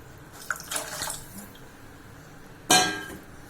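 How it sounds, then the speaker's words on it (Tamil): Water poured into a pot of horse gram rasam in a home kitchen, a short splashy pour near the start and a louder, sharper splash and trickle near the end. "இப்போ நம்ம கொஞ்சம் தண்ணி ஊற்றிக்கலாங்க"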